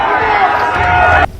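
A large crowd during a violent protest in Assam's Baksa district roars in a dense, loud mass of shouting voices that breaks off abruptly.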